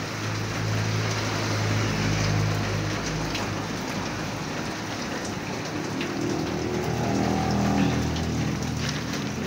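Heavy rain pours steadily onto a shop roof and surfaces during a rainy Sunday, a dense, unbroken hiss that holds loud throughout with no voices over it.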